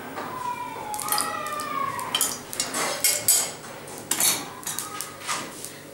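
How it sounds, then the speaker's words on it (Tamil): Ground coriander chutney is spooned into a serving bowl: a run of close metallic clinks and scrapes of spoon against dish, with soft wet squelches, in quick irregular bursts. "இப்போ நான் இதை சர்விங் பவுலில் ஷிஃப்ட் பண்ணுறேன்"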